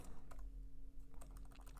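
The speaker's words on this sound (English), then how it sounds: "I'm typing with one hand, and I've got something covering it" Rapid keystrokes on a computer keyboard typed with one hand, with something laid over the keys, forming an uneven patter of soft close clicks with brief pauses and no talking.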